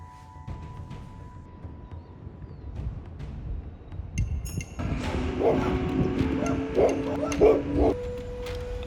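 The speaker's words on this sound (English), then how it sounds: "I was greeted by wandering canines rambling through the streets" Street dogs in a high-altitude city's historic district: a few yips and whimpering barks rise over low background rumble and distant murmur, mid-distance and intermittent, with faint voices nearby.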